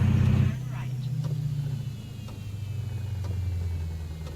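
Engine brake on a Peterbilt 359 in an American truck driving video game, a low rumbling engine drone that steps down in pitch after a louder opening burst, heard under someone talking.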